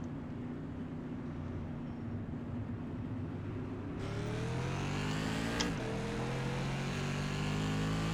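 NASCAR Tour Modified race cars in the iRacing sim roar as the pack accelerates at the start, a low engine drone that surges louder halfway through with rising revs and a gear-shift sweep, no talk.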